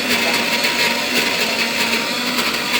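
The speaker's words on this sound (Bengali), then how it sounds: "সরষে পেঁয়াজ পেস্ট করছে একসঙ্গে" A kitchen mixer grinder grinds mustard and onion into a paste together, a loud steady motor whine with rattling blade noise running unbroken and close throughout.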